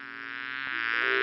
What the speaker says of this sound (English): just then, a bee flew in